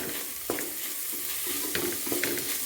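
Biryani masala with coriander powder and turmeric being stirred in a pot, a steady scraping and sizzling texture with a few sharper spoon knocks against the metal, close and continuous.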